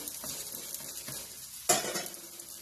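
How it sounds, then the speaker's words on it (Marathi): Moong dal bun dosa roasting in a pan over medium heat, a soft steady sizzle with a few light scrapes and one sharper clink of a utensil near the end, close and quiet. "अशा पद्धतीने आपण हा चांगला भाजून घ्यायचा गॅस मिडियमच ठेवा"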